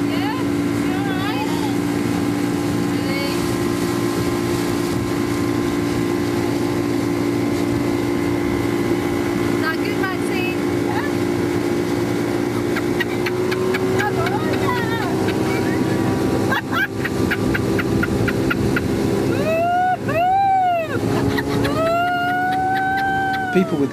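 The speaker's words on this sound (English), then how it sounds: "we moved to some power boats, and this was even better because the boat was moving fast" A fast-moving power boat on open water gives a steady, loud engine drone with strong harmonic hum throughout, wind buffeting the microphone, and voices speaking over it near the end.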